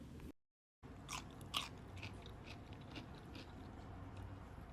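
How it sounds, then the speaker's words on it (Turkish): Crisp crunching of teeth biting into a crunchy homemade gherkin pickle, several sharp snaps followed by steady close chewing, heard alone after a brief silence. "Dinlediğiniz üzere kütür kütür çok lezzetli turşuları oldu."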